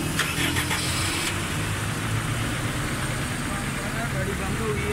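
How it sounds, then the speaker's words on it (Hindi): A Honda Civic with a misfire runs at a steady idle, its engine a continuous mid-pitched rumble heard up close while a person talks over it. "गाड़ी बंद हो गई"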